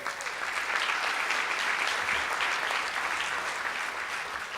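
An audience at a 2013 New York mayoral forum on sustainability applauds in a steady, dense wash of clapping that holds fairly evenly for several seconds.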